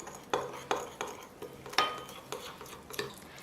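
A spoon stirs two small spoonfuls of flour into cooked oil in a small bowl, tapping and scraping the sides in a quick, uneven rhythm of close clinks, with a faint low hum behind.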